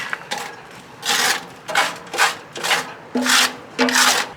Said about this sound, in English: got that firebox pretty much scraped all the way out there